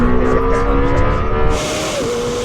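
A Lamborghini Temerario and a Ferrari SF90 launch in a drag race, a loud sustained engine roar holding a steady pitch before the tone dips and shifts near the end as if changing gear.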